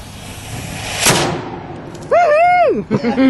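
A cannon fires once aboard the tall ship Pride of Baltimore, a single loud boom that decays into a wash of noise. Excited shouting and cheering follow close up.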